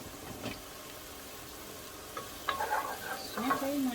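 Onion and garlic sautéing in a pan for parmoussaka, a soft, steady sizzle with brief stirring scrapes that grow a bit louder toward the end, close by.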